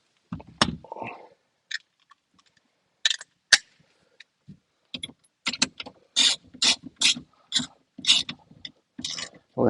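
A ratchet tightens the positive battery terminal on a BMW 528i, producing a series of close, crisp clicking strokes in irregular bursts with short pauses between.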